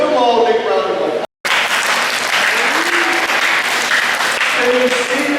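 An audience at a county fair main show breaks into sustained clapping and cheering that fills the stretch, briefly cut off once, with a voice heard at the start.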